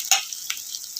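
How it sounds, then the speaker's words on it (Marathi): An Indian tempering for kadhi fries gently in oil over a low gas flame, giving a soft hiss with a couple of quick scraping stir strokes, close and short. "बघा, आपली फोडणी मस्तपैकी स्लो गॅसवरती छानपैकी भाजते."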